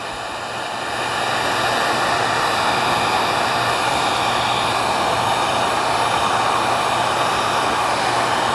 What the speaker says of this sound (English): just hold the heat gun over to solder, and that will basically melt into that connection.